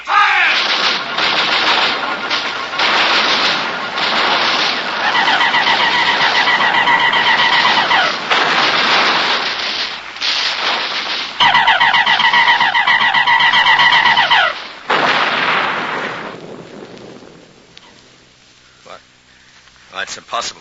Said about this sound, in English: One moment I got heavy artillery, tanks, and rockets, whole batteries of 105s